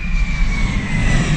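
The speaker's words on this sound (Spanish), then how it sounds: "Ya saben, los aviones aquí están a la orden del día." Airplane passing overhead, a steady broad roar of jet engine noise with a faint high whine, heard from inside a SEAT Ibiza FR TSI, continuous and fairly loud throughout with no talking.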